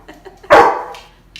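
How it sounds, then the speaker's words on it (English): A dog lets out one loud, sharp bark up close, excited by the smell of shrimp cooking, with faint yips before and after. "dogs smell this shrimp. They're over there going crazy."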